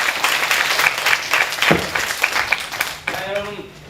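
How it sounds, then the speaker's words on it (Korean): An audience claps to welcome a guest professor at a lecture on Dante, the applause steady and fairly close, with brief talk and a sharp thump partway through. "큰 박수로 모셔주시기 바랍니다"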